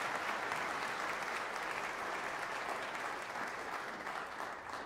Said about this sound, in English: How about one more round of applause for the strings ensemble?